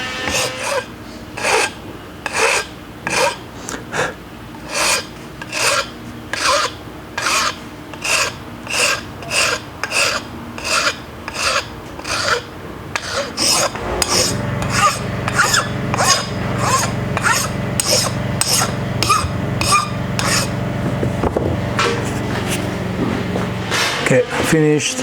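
Hand filing and shaping a slipjoint folding knife, the rasp strokes coming in a steady, evenly spaced rhythm, close and fairly loud, then giving way to a denser, continuous rubbing scrape with a low steady hum underneath.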